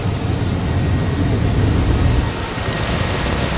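Chevy/GMC 350 V8 idling at operating temperature after a thermostat replacement, a steady, loud low rumble with broadband hiss running continuously throughout, no talk.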